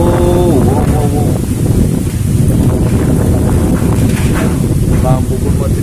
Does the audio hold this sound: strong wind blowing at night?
yes